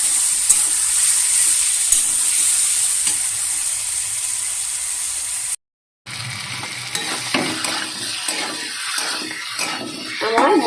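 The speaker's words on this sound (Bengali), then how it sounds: "এবারে মটরশুঁটিটা দিয়ে দেবো, দিয়ে আর একটু ভালো করে কষিয়ে নেব।" Masala spices and green peas sautéed in a pan for an egg curry give a steady, close frying sizzle with stirring scrapes. The sizzle cuts out briefly midway, then returns with more pronounced stirring.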